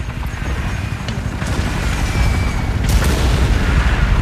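Artillery fire in the war video game Tom Clancy's EndWar, a loud continuous rumbling barrage with deep booms and a few sharper blasts rolling through, no voices.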